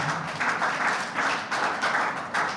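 Round of applause for the NAFDAC team at a Quebec Food Processing Industrial Parks event, a moderate crowd clapping in a steady patter with rhythmic swells, heard fairly close and without speech.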